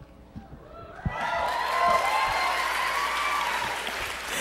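Audience applause at a Beloit College senior baccalaureate ceremony, a steady broadband wash of many hands clapping that swells after a brief sharp onset and holds fairly loud until the end.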